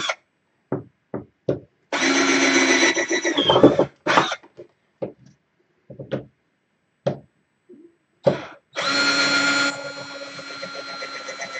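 A cordless power drill works on a dining room table during robot-fighting repairs, with bursts of whirring of about two seconds. Short knocks and taps fill the gaps between them.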